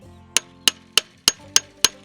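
A hammer bangs a U-nail out of a wooden fence post on a farm H brace: six sharp metallic strikes at an even, quick rhythm, close and clear, each ringing briefly before the next.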